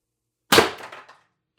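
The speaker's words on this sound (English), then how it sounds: "We'll shoot for the bottom left." A single sharp shot from a TR50 Torpedo foam blaster fired at a target, loud and close, with a brief decaying rattle after the burst and no talk.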